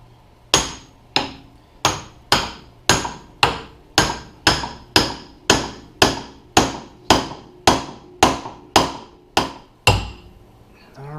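A hammer strikes a pickle fork driven into a vehicle's front suspension joint, about sixteen sharp metallic blows at a steady rhythm of roughly one and a half per second, close and loud.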